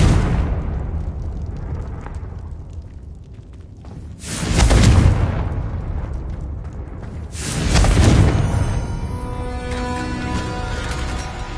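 Two heavy Confringo blasting-spell explosions from Hogwarts Legacy boom out several seconds apart, each a loud roaring burst that trails off, followed by fading debris and shimmering tones.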